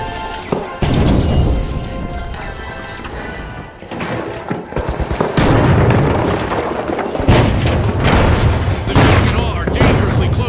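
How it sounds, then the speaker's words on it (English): Detonated charge exploding in the video game Finalzzz, heavy booms and crashing blasts rolling over several seconds with brief gaps, loud and close. "Ready to detonate."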